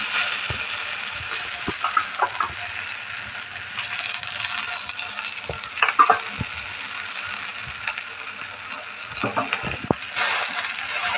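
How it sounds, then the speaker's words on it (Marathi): A potato and semolina snack pan-roasts in oil, with a constant close sizzle broken by scattered scrapes and clicks as pieces are turned. No one speaks. "दोन्ही साईडनं मस्तपैकी भाजून घेऊया आपण"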